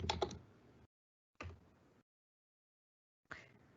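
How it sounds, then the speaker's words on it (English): Bursts of typing on a computer keyboard in an office setting, three short clusters of close, quick key clicks separated by silent pauses. "And when I start typing"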